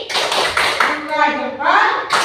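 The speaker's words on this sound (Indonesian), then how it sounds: "Tepuk jempol karena sudah semuanya bisa." Children in a classroom do a thumb-clapping routine, a few sharp claps and taps falling in a quick rhythm alongside a voice chanting, close and fairly loud.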